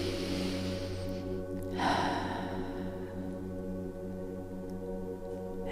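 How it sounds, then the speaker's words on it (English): A single deep, airy breath drawn in during guided meditation, heard close and soft against a quiet, steady background hum. "And take another breath in."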